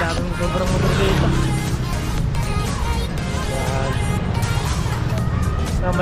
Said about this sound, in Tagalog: Grabe, daming sobrang motor dito.